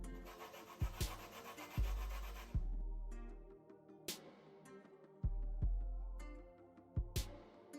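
Lemon skin scraped for zest in a home kitchen, with close, quiet rasping strokes and soft knocks repeating in an uneven rhythm.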